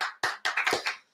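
Several quick hand claps in an uneven burst, close and fairly loud, with brief gaps between them.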